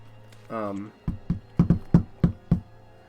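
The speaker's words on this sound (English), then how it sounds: "So, Himi, you knock." Knocking on a door during a tabletop role-playing session: a short spoken sound comes first, then seven crisp, evenly spaced knocks, close and distinct.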